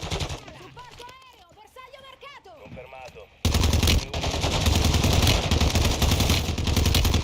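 Gunfire and bombardment in the Warzone video game: dense, loud bursts of rapid shots and blasts roar in suddenly after a stretch of voice chat and keep pounding without pause.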